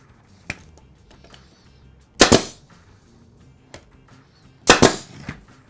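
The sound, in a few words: pin nail gun shooting into sides of a box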